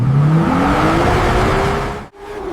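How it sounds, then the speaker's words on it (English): A car engine roars at high speed on an open highway, loud and close, with its pitch climbing steadily as it accelerates, then briefly cutting out before surging again. "when the road is clear and the engine roars, the race begins"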